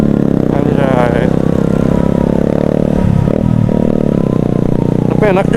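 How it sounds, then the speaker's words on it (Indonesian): A motorcycle with a loud aftermarket exhaust drones loudly with a throaty exhaust note, dipping briefly midway, while a voice speaks over it, on a road at night. "Tapi enak juga nih suara knalpotnya"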